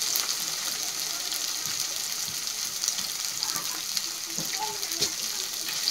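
Frog curry sizzles in a pan as cardamom, cinnamon and cloves are added, giving a steady, close frying hiss with faint stirring clicks throughout.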